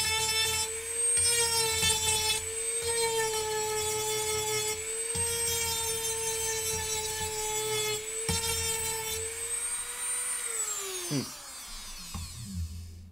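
Power sanding on a wooden drawer in a home workshop, a steady loud whine with a few brief dips, then winding down near the end.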